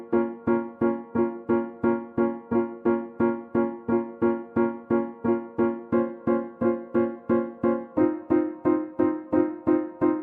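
Basic MIDI chords in a staccato pattern, a steady run of evenly spaced short stabs repeating throughout, clear and upfront with no talking.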